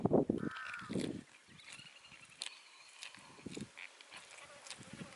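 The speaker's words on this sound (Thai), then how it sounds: "กามากินตำฮวงครับ" Crows cawing nearby as they gather to eat papaya salad, with a couple of harsh loud caws at the start followed by softer scattered calls and faint rustling in quiet surroundings.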